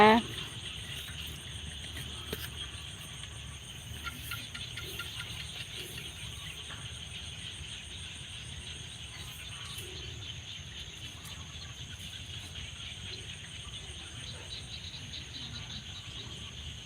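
Frogs calling in the evening beside a freshly sown vegetable plot, a steady outdoor chorus of insect-like trills and chirps running throughout at moderate distance, fairly faint and continuous.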